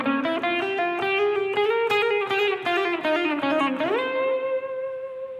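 An electric guitar plays the quick intro run of a song at full speed, a fast string of picked notes that climbs and ends on a sustained ringing note, played solo without speech.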